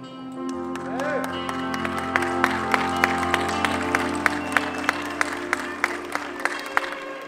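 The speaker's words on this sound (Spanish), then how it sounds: "Fuerte aplauso para los recién casados." Applause and cheering for newlyweds at a wedding celebration rise under loud talk over a PA, with sharp claps popping out more often as the cheer builds.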